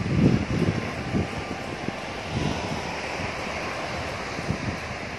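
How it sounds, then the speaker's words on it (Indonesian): Strong surf at a crowded beach, with waves breaking in rolling low surges over steady wind-blown roar, the loudest swell near the start and smaller breaks following. "Ini dia pantainya, ombaknya lagi kencang tapi tetap banyak orang yang berenang."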